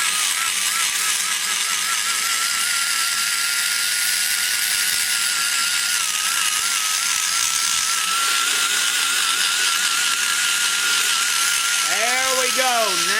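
Power tool grinding to reshape the bowl of an aluminum Dart Pro One big-block Chevy cylinder head, a continuous high-pitched whine with slight pitch wavering throughout, steady and close.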